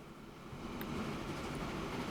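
A freight train in the video game Transport Fever 2 pulls away with a steady, rising low rumble and rolling rail noise that swells after the first half second and then holds.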